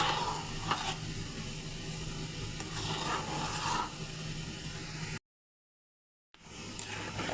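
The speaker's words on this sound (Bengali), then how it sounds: "আর এটা কন্টিনিউ নাড়াচাড়া দিয়ে রাখতে হবে, না হলে নিচে ধরে যাবে।" A spoon working through homemade tomato sauce in a pan, a soft continuous scraping and sizzling with a few faint knocks, quiet and close, broken by a brief silent gap.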